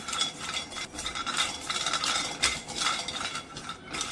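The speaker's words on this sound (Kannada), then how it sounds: "ಇದನ್ನ ಹಾಕೊಂಡು ಸ್ವಲ್ಪ ಹುರಿತಾ ಇದ್ದೀನಿ" A four-inch cinnamon stick is dry-roasted in a pan, giving light, fast scraping, stirring and clinking sounds against the metal in an uneven rhythm.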